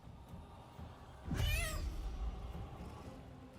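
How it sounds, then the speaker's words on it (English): A cat meows once inside the video game Baldur's Gate 3: a short, rising and falling cry over a quiet game ambience, clear and fairly near. "I wonder if the meow will work in combat."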